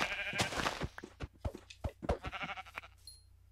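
A sheep in the video game Minecraft bleats several times in short, wavering calls, clear and close with no talk.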